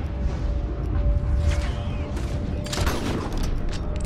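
Gunfire in the video game Red Dead Redemption 2, a few loud shots and bursts over a dense, rumbling game soundscape.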